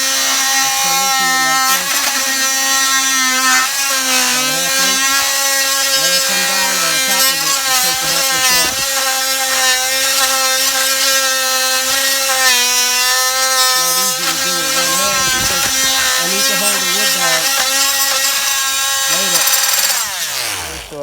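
A power saw cuts wood to trim French doors to fit during a patio installation, a loud, continuous motor whine with steady harmonic tone running nearly the entire time and dropping off at the end.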